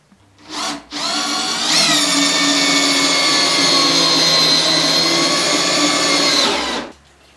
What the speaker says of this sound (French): je vais percer, faire des avant-trous, percer